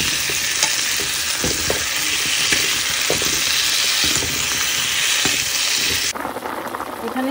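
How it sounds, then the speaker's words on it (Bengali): Drumstick stems sautéed with spices in a pan give a steady, loud sizzle broken by the scrape and clatter of stirring, and the sound turns softer and thinner near the end. "ডাঁটাটা ভালো করে কষিয়ে নেব"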